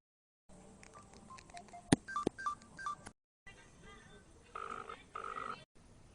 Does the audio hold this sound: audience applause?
no